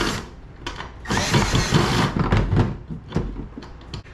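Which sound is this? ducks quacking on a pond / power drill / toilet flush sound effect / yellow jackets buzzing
power drill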